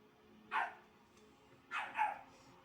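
A female dog gives two short barks indoors, the second a quick double, moderately close, with quiet room tone in between and no speech.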